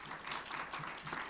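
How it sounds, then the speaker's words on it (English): Conference audience applause, a dense steady wash of many hands clapping at once, heard faint and somewhat distant throughout. "Big applause to our speakers."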